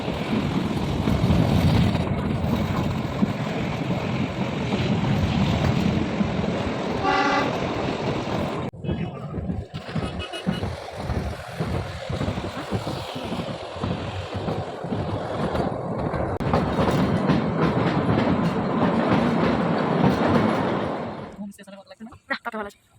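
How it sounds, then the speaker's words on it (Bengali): Shimla toy train passing Taradevi station on the mountain line, a steady loud rumble of running wheels throughout with a short horn toot partway, voices faintly underneath, and the sound cutting off near the end. "এই যে আমাদের টয় ট্রেন এখন তারাদেবী স্টেশন ক্রস করলো"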